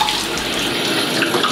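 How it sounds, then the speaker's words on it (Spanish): Warm running water pours steadily from a tap as a face is rinsed, a loud, close, continuous splashing rush with no voices. "después lo retiro con agua tibia"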